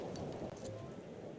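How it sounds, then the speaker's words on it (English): Rain pattering on a beach parasol in an interactive seaside game audio demo, a dense, continuous close patter with a low rumble beneath. "You can hear all of the rain pattering on top of the parasol."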